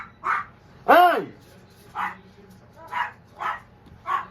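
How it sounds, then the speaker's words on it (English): Dogs bark several times in an uneven rhythm, fairly close, while a person shouts once over the barking. "dogs are barking like crazy"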